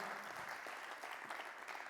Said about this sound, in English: Somebody clap your hands and shout.